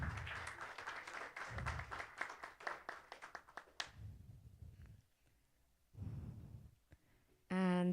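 Audience at a conference clapping, a brisk burst of many claps for about four seconds that fades into quieter scattered patter and a few lingering claps.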